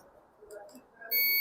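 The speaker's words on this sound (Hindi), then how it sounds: "देखिए यहाँ पे ड्रेन सोर्स में बीप आ रही है, यानी कि यहाँ पे शॉर्टिंग है।" A digital multimeter in buzzer continuity mode sounds a sharp high beep across the drain and source of a shorted MOSFET on an e-rickshaw controller, following a few faint clicks of the probes.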